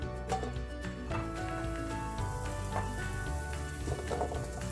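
Medium-sized chunks of red potato gently fry in a pan with a soft, crackling sizzle and scattered pops, with tonal background music running underneath.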